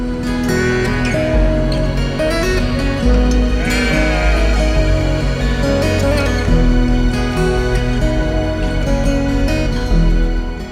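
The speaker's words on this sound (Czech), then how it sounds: "Na cestě si udělali polední pauzu ovce" Sheep bleat repeatedly and loudly at close range on an Alpine mountain road, several animals calling over one another in overlapping cries above a low steady rumble.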